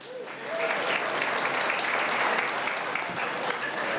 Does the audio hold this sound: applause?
yes